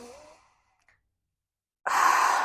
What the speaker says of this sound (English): Inhale peace and exhale tension.